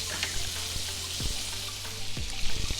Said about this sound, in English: Let that butter start to brown up.